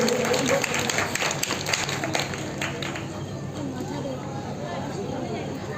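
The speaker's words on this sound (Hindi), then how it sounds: "एक बार जोरदार तालियां नैना के लिए।" Audience clapping for a dance competition winner at a Durga temple courtyard prize ceremony, brisk applause fading out over a few seconds under a crowd murmur.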